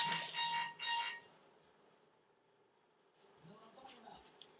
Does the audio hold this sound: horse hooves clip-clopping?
no